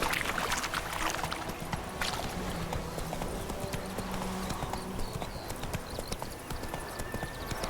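Horse hooves clip-clop in The Witcher 3 in a steady walking rhythm, close and clear, over a bed of ambient outdoor game sound with faint creaks.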